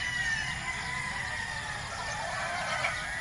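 Gamefowl pullets on a game farm fill the air with dense overlapping clucks and chirps, a busy flock sound that runs continuously and fairly loud, with no single bird standing out.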